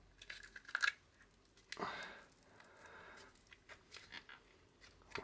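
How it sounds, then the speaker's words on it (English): Scissors snipping through a cured resin mould, a few sharp close cuts and crinkly peeling sounds, quiet and without talk. "I'm just going to cut these and peel it back. Hopefully these scissors do it."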